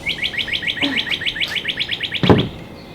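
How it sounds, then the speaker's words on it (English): Songbirds chirp in a quick, steady series of high repeated notes from close by, with one brief lower thump near the end. "How about these songbirds?"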